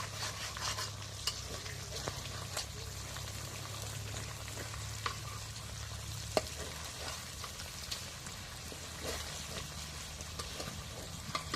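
Fish fries in hot oil with a continuous, even sizzle and occasional sharp clicks of stirring, close and steady from start to finish with no voices.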